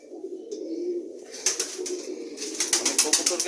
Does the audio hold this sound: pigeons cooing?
yes